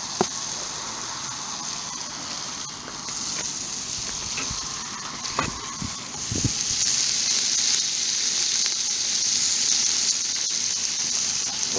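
Fresh parsley, shallots, thyme, chives and onion sizzling in a camp oven, a steady hissing fry with a few soft pops and crackles that grows slightly louder toward the end.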